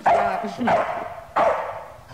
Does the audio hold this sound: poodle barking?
yes